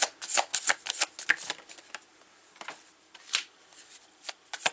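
Tarot cards being shuffled in a reading, a run of crisp riffling snaps and flutters, loud and close, in bursts with short pauses and no talking.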